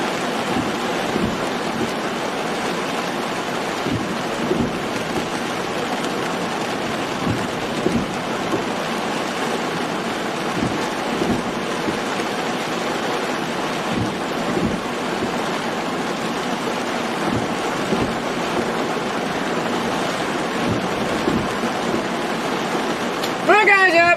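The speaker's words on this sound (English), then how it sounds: "This is just looking like a rainy mess." Steady heavy rain pours during a storm in North Dakota, a dense continuous wash of noise with occasional low rumbles and thumps underneath, loud and unbroken throughout.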